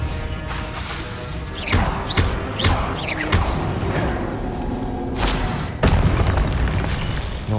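Confringo fire spells go off in Hogwarts Legacy combat as a series of booming blasts and crashes. Several sharp explosive hits come over a dense, continuous game-battle din.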